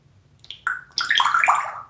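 A parrot imitates the sound of water with a short burst of bubbly, trickling vocal chirps, rising quickly to a close, bright gurgle that lasts about a second before fading.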